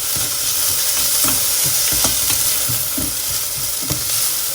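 Peppers hit a hot saucepan of ragu and sizzle steadily, a dense continuous fry with scattered louder pops and the scrape of stirring, close and fairly loud with no talking.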